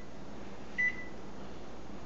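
Microwave oven control panel gives one short, clear beep as its buttons are pressed, set against a faint, steady hum from the running oven and room air, close by with no talking.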